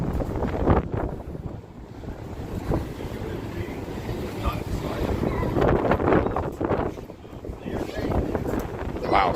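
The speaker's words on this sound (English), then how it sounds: "Wow, suddenly it got windy." Wind gusting against the microphone outdoors on a Las Vegas street at night, rough buffeting rumble in uneven bursts, mixed with voices talking nearby.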